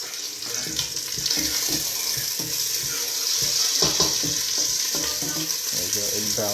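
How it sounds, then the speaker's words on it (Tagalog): Garlic sizzling in a pan for a simple beef kare-kare, a continuous bright frying hiss close up with occasional scraping stirs and clinks underneath. "Wait lang natin hanggang sa maging brown ng konti yung garlic"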